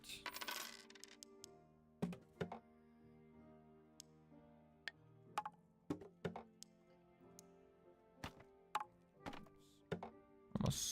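Coins clink and drop in quick separate bursts as a crossbow is sold to a merchant in the Dark and Darker fantasy dungeon game, each payout a short bright jingle over near silence.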